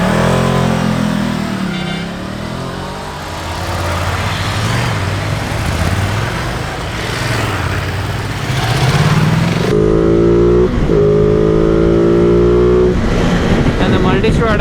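A Ducati Multistrada 950 without its Termignoni slip-on rides along with a group, its engine and exhaust droning and revving through shifting pitches amid wind and road noise, with a voice talking over it.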